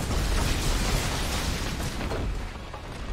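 Barracks collapsing in a Dota 2 match, a dense, sustained rumbling explosion with crackling debris that stays loud and full throughout, no voices over it.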